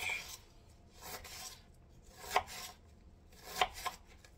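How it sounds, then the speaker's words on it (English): Knife cutting off an old outer layer from an ingredient for a chicken dinner, several scraping slices in an uneven rhythm with two sharper cuts, close and fairly quiet. "I'll cut off this old layer."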